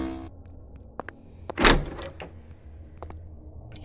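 Doors in the Jollibee horror game Jollibae: a few faint clicks and knocks, then one heavy thudding door bang near the middle, followed by quieter latch taps.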